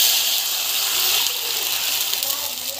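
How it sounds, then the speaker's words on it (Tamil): Water gushes into a hot cooking pot of sautéed ingredients with a steady, bright hiss and faint sizzling throughout. "ஸோ தண்ணி வந்து போட்டுக்கலாம்"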